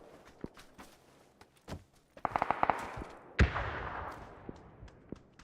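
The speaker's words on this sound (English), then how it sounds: "Nade just went off in this apartment" A grenade goes off inside an apartment in a shooter video game. A sharp blast is followed by a long decaying rumble, set among scattered clicks, steps and a few quick cracks.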